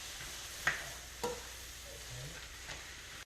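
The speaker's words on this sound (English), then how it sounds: "Now we're going to be mixing this around and letting it cook for about 1 to 2 minutes" Frozen peas and carrots sizzle quietly in a pan while a utensil stirs them, giving a few soft scraping clacks over a faint steady frying hiss.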